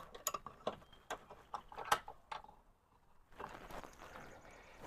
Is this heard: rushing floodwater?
no